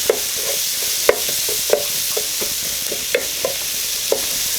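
Onions softening in a pot make a steady, close sizzle, with occasional light clicks and taps of a utensil against the pot.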